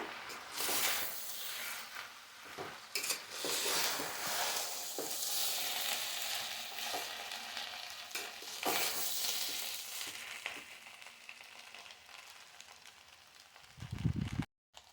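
Cooked rice with potato and peas is stirred in a hot pan, giving continuous sizzling and scraping spatula strokes that rise and fall unevenly, ending with a brief heavier clunk.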